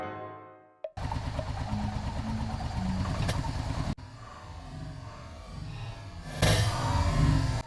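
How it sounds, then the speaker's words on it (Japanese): A Yamaha Vmax motorcycle with a rough-running engine, its ignition coils just replaced, cranks over and fires up, then runs loud and close in a steady idle before a sharp surge near the end. "再びエンジンをかける"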